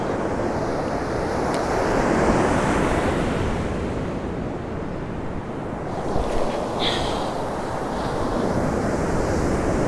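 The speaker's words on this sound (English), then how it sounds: "see where the waves are breaking away out there on that bar" Rough surf breaks and rolls onto a beach near a rip current and offshore bar while someone fishes for pompano, a loud, continuous roar of waves mixed with wind buffeting the microphone.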